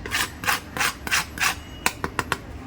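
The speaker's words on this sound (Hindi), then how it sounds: "ये देख सकते हैं कितने क्रंची है" Crisp crunching bites of khakhra, a Gujarati flatbread cracker, slow and rhythmic at first, then quicker sharp cracks, close up with no talking.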